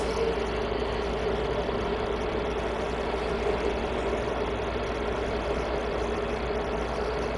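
A Fleet Star truck engine idles in a driving video game, a steady deep rumble with a low throb that holds at constant loudness throughout, with no voices over it.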